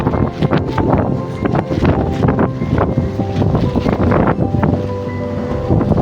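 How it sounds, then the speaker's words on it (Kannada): Strong wind roars and buffets steadily across the microphone on the summit of Mullayyanagiri, Chikmagalur, loud and continuous with gusty rumbling throughout. "ಹೆವಿ ಗಾಳಿ ಬರ್ತಾ ಇತ್ತು"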